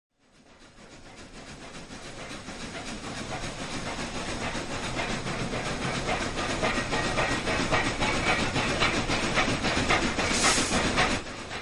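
A Union Pacific steam locomotive hauls a train up a grade, its chuffing and rail clatter building from quiet to a loud, steady rhythmic roar with hissing steam.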